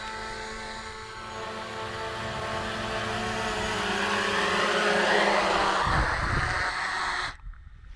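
An agricultural scouting drone comes in to land on its own, its propellers whirring in a loud, steady, rising drone that swells closer, then cuts out abruptly near the end as it touches down.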